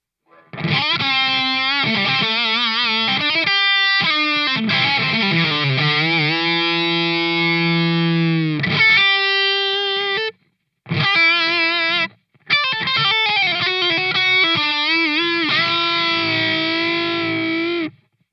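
Electric guitar lead tone through an amp model, with distorted sustained notes and bends, several phrases separated by brief silences, loud and close, with no talking.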